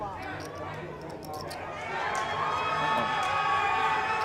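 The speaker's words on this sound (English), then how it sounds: "The crowd goes wild in the background." Crowd noise at a poker tournament final table in Las Vegas swells from scattered voices into a loud, sustained roar of cheering and chatter, growing stronger through the second half.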